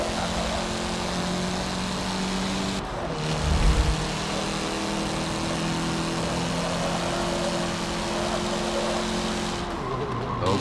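Mitsubishi Lancer Evolution IX racing in Forza Motorsport 7, a steady droning engine holding high revs for the whole stretch, with a couple of brief gear-change dips and a low thump near the start.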